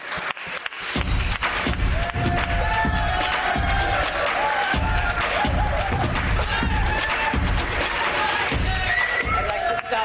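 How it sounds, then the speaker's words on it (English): A large crowd at a 2019 Indian cricket award ceremony breaks into loud, sustained applause and cheering that fills the hall continuously for about ten seconds. "let's welcome him with a massive round of applause"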